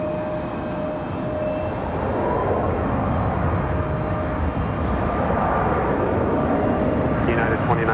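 Airplane taxiing at Raleigh-Durham airport: a steady engine whine with a faint tonal hum, close and moderately loud, rising slightly partway through, with talking over it.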